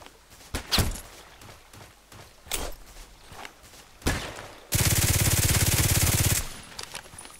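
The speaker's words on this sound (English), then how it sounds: "There's one guy shooting at me now." Gunfire in the Contract Wars video game: a few scattered single shots and thumps, then a sustained loud burst of rapid automatic fire lasting nearly two seconds.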